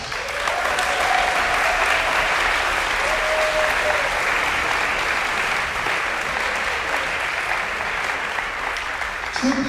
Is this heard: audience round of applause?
yes